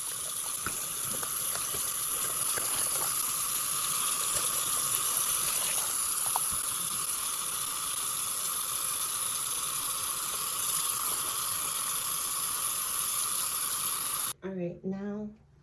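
Cold water pours steadily from a tap while underwear is washed by hand, a loud continuous close hiss and gush that cuts off abruptly near the end, followed by a brief voice.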